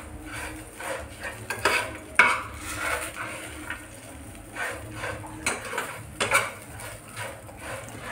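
A spoon stirs a raw banana curry with salt in a pan, producing irregular scrapes and metallic clinks over a faint sizzle, close up with no voices.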